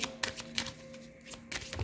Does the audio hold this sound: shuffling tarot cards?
yes